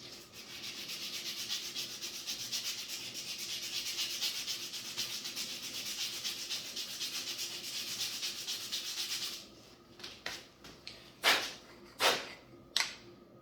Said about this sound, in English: So the curvature is able to get sanded nicely